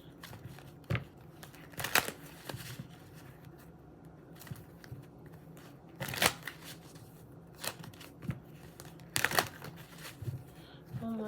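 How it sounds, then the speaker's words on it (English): Tarot cards are shuffled in several quick riffling bursts separated by quieter pauses, close and crisp. "One more shuffle."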